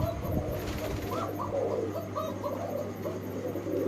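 Pigeons at a seller's stall coo in a run of soft repeated calls over a steady low hum, moderately close, with no talking.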